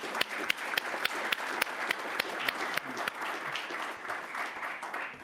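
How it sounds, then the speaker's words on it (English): An audience at a conference panel session gives the panelists a round of applause, with distinct hand claps over a steady wash of clapping, heard from a moderate distance. "I think we want to give a big applause to our panelists"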